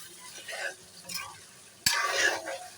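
Tomatoes with large cardamom, bay leaf, cinnamon and spices are stirred and fried in a pan, soft intermittent scraping and sizzling that swells into a louder hiss after a sharp knock near the end.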